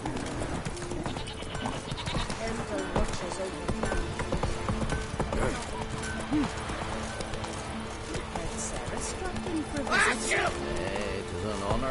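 Roach the horse galloping in The Witcher 3, steady rhythmic hoofbeats running throughout the clip alongside a voice and game ambience.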